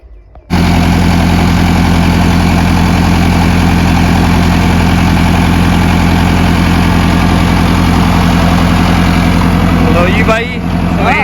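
A diesel generator runs steadily on a Punjabi farm while wheat fields are watered, a loud, constant low drone with strong harmonic hum that starts abruptly and holds throughout, close by and alone.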